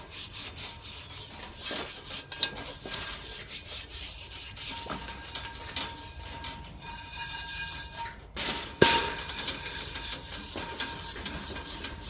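Scrubbing a Lodge 8DO cast iron Dutch oven gives a continuous gritty rasping scrape in uneven strokes, close and moderately loud, with a sharp knock near the end and no talking.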